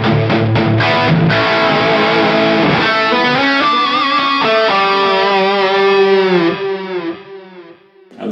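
An electric guitar runs through a Mooer GE200 with modulated delay and reverb, giving loud distorted chords and then sustained single notes that ring out into a fading, shimmering tail.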